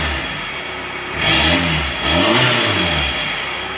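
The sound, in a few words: diesel car engine revving, aftermarket exhaust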